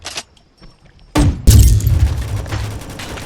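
Gunfire in a video game: after a brief quiet stretch with faint clicks, a sudden heavy blast lands, followed by another booming burst and a rumbling roar that fades slowly, loud and near.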